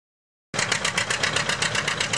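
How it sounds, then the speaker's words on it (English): An antique Oliver 66 tractor engine idles at a tractor pull with a steady, even chugging pulse. It starts abruptly after half a second of silence and stays close and moderately loud. "We've got an Oliver 66."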